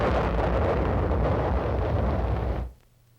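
Artillery fire sounds as one sustained, heavy roar of blast noise that stays loud for a few seconds, then cuts off sharply to near silence.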